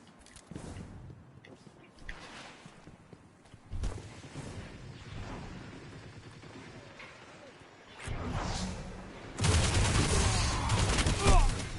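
Rapid automatic gunfire from Destiny 2 multiplayer, a dense crackling fusillade that swells louder in bursts toward the end, with voices talking underneath.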